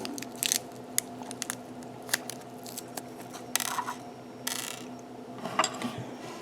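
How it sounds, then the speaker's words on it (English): Screws are tightened on a Knight Rider model kit assembly, giving quiet, close clicking and ratcheting taps with small metallic rattles spread irregularly across a quiet tabletop. "carefully turn the assembly over and tighten these screws in place"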